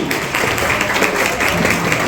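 Wedding guests at a theatrical civil ceremony in a wedding hall applaud the bride, a dense, loud, unbroken wash of clapping throughout.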